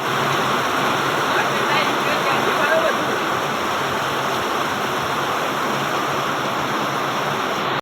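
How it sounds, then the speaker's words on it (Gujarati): Heavy evening rain pouring during a rural Gujarati festival outing, a loud dense continuous hiss and roar of water with no breaks, close and steady throughout. "વરસાદ હાલ રહી ગયો જોઈ લો"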